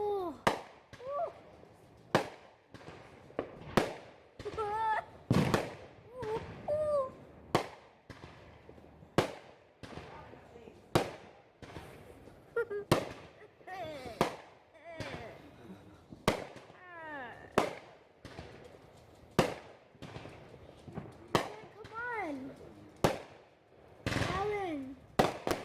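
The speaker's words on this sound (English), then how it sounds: "We're gonna look at the fireworks that the neighbors have been blowing all day." Fireworks set off by neighbours on New Year's, a long run of sharp bangs and crackling bursts at irregular intervals, loud and fairly close, with people talking in between.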